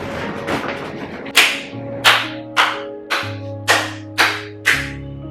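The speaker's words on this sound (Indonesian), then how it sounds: "Gue kasih tepuk tangan dan tepuk kaki ke lu." A series of about seven sharp, loud percussive slaps at a roughly steady rhythm, like hand claps, over sustained background musical tones, with a softer cluster of hits at the start.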